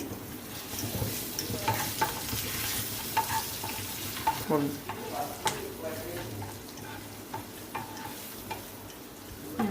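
Spices including coriander powder and chilli powder fry lightly in a pan with a soft sizzle, punctuated by repeated scraping and stirring clicks at close range.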